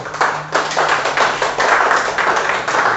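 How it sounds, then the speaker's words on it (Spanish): Church congregation clapping in a rhythmic, uneven pulse of strong hand claps, loud and fairly close, in a Spanish-language worship service. "bríndele un fuerte aplauso al Señor"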